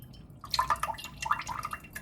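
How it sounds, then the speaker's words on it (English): Liquid drains from diced tomatoes in two short bursts of wet drips and trickles, close and soft, with a brief pause between them. "you take your diced tomatoes and you drain them."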